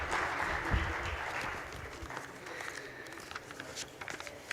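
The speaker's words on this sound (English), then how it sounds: "We welcome you here, ma'am, with a huge round of applause, please." Applause welcomes a guest speaker at an industry roadshow event in Gurgaon, clapping that is strongest at first and then thins out, with some footsteps and movement mixed in.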